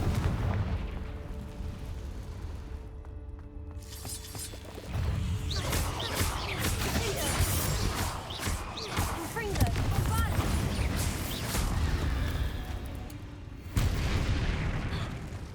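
Confringo blasting-spell explosions in the Hogwarts Legacy video game, a series of booms and crackling bursts over game music, with a voice speaking now and then.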